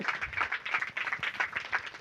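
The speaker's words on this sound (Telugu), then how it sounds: "చప్పట్లు కొట్టాలి ఇప్పుడు మరొకసారి" A church gathering audience claps in a quick, steady rhythm of many hands, fairly faint and distant, over a few seconds with no voices on top.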